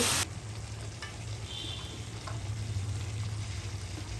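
Spring onion stalks fry with snakehead fish in a pan, a continuous close sizzle with a low steady hum beneath and a few faint stirring clicks, no speech.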